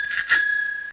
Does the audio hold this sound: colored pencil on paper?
no